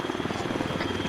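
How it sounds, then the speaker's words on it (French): Helicopter heard during a night military exercise with an approach to a landing zone: a steady, loud rotor chop with rhythmic thumping pulses and engine drone throughout, nearby. "j'entends l'hélico, donc plein nord, et puis on rejoint notre LZ"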